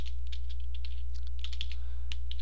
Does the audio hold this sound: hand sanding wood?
no